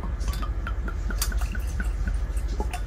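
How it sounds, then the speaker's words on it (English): Whiskey is poured into a glass, a short run of close, light liquid trickles and drips with no voices. "cut to a pouring glass scene"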